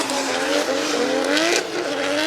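Drift cars battle at Formula Drift Japan in 2016, engines screaming at high revs and rising and falling in pitch, with tire squeal throughout; loud and continuous.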